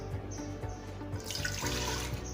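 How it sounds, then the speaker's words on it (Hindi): Water pours from a glass into a pressure cooker in a kitchen, a steady splashing stream close to the microphone that thickens and brightens partway through, with no talking. "2 गिलास पानी के मैं इसके अंदर ऐड कर रही हूँ।"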